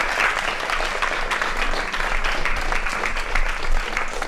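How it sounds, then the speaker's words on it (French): Sustained applause from a large audience, dense and steady clapping throughout with no voices standing out. "Merci, on peut les applaudir."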